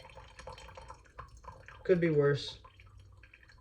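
Coffee drips steadily while being hand-brewed without a coffee pot, which has broken. A person talks over the dripping, and one louder, brief liquid burst stands out near the middle.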